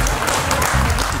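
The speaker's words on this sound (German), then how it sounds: "Ganz großen Applaus für Marc Weide" A studio audience applauds in a television show, a brief, dense burst of clapping that stays at an even level throughout, with no voices over it.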